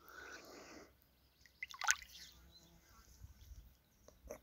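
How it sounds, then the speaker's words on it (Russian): A person plunges into water outdoors on a hot, still day at a campsite, sending up a short burst of broadband splashing followed by a single sharp slap and a few faint trailing drips. "сейчас в воду занырну"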